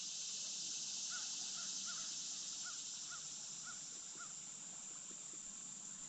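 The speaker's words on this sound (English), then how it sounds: "Hear birds in the distance." Crows cawing in the distance along the Buffalo River, a series of faint, spaced caws over a constant high insect drone in a quiet outdoor setting.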